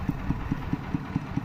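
A walking tractor engine chugs at a steady idle, its regular low thumps close and moderately loud with no other sounds.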